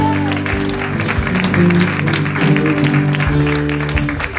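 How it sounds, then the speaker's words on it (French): A church congregation claps during a French-language worship service awaiting the prophet Lazarus, loud, steady applause layered over sustained instrumental music and a few raised voices. "Bon applaudissement."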